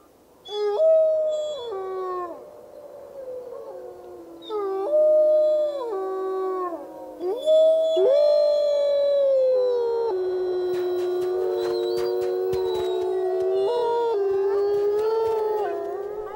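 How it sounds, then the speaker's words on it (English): Several wolves in a pack howl together, their long, sliding, overlapping voices rising and falling, loud and close, continuing for many seconds. "accumulating an archive of the pack's howls"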